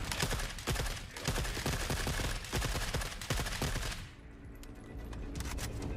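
G36 rifle fire in the video game The Forever Winter: loud, dense bursts of rapid automatic shots that run almost without pause for six seconds, easing slightly near the end, with no talking.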